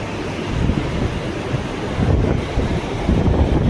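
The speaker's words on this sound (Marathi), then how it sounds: "तीन डाप्यामधनं पाणी सोडलंय आणि 2 बंदा थोडा सोडलाय." Water from a dam's opened gates rushes in a loud, continuous roar, with steady low rumbling turbulence and gusty wind buffeting over it; no one speaks.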